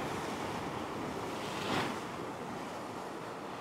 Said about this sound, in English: I can see a couple of little waves coming along